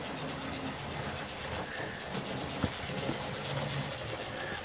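A Hornby model auto train circles its track in a steady, continuous rolling rumble, with a couple of faint clicks from the rail joints and no talking.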